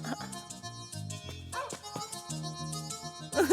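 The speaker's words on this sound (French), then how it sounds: "Quoi? Oh, chien!" A labrador gives a series of short, high, whiny yelps and yips, close and fairly loud, with a few brief gaps between them.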